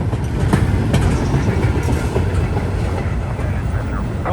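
Freight boxcars of a CSX or Norfolk train roll past close by, a loud continuous rumble with clickety-clack wheel beats throughout.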